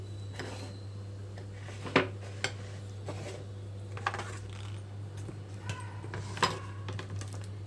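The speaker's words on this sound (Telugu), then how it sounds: "ఇక్కడ నేను దోసకాయని తొక్కుతోనే కట్ చేసుకుంటున్నాను" A knife cuts a yellow cucumber with the peel on for an instant pickle, giving sharp, irregular taps on a cutting board over a steady low electrical hum.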